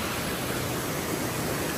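Creek water flowing near a waterfall in a national forest, a steady broadband rush with no breaks, close and constant with nothing else standing out.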